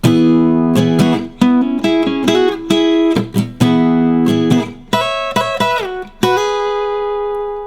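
Plucked electric guitar lick played alone, a run of distinct notes at moderate pace with a few slides, ending on a sustained ringing note.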